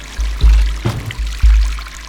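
Water splashing and pouring in the video game Stray, with a few distinct watery bursts in quick succession, loud and close, with no talking.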